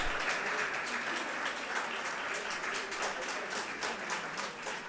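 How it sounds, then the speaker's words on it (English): Audience applause at a research conference, moderate clapping from a crowd of listeners, steady and somewhat distant throughout. "So let's give her another round of applause."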